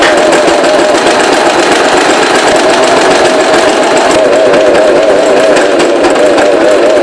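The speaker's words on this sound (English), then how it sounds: "here I'm about to sew it with the right color of thread, just sewing out the dress right at the beginnings" Sewing machine stitching a dress with matching thread, a steady, loud, continuous motor whir with a fine rapid rattle running unbroken throughout.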